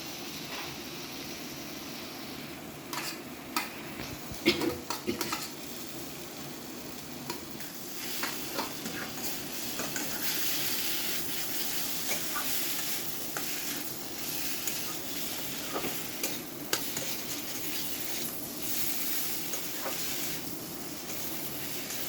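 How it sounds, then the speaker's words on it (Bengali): Fried potato and pointed gourd are stirred into spices sizzling in a pan, giving a soft, continuous hiss broken by intermittent scraping and clinking of the spatula. "এখন আমি এই আলু পটল যে ভেজে রেখেছিলাম এটা এর সঙ্গে দিয়ে দেবো। মশলার সঙ্গে দিয়ে আর খানিকটা নাড়াচাড়া করবো।"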